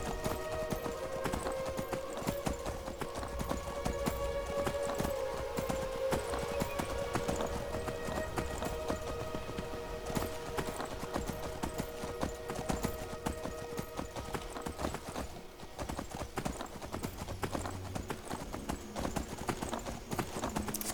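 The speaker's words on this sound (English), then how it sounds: "Skyrim is a game about riding your horse." Horse hooves clip-clop steadily while riding in the video game Skyrim, with a continuous, even rhythm of hoofbeats over a quiet game soundtrack, and no talking.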